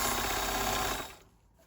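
Home sewing machine stitching a seam flat on a sports bra, a steady rapid mechanical whirr for about a second that then stops, close and alone.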